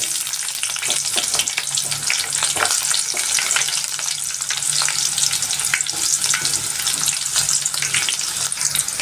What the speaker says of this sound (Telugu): ఆయిల్ హీట్ అయింది. ఆవాలు, జీలకర్ర, కరివేపాకు వేసేద్దాము.